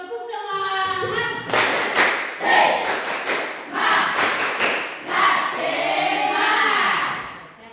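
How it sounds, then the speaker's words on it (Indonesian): A classroom group doing a rhythmic spirit clap in unison, sharp loud clap bursts in a patterned sequence, with a leader's voice calling over the start and end. "Tepuk semangat."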